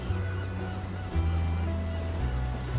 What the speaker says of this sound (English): Can you hear the waves singing?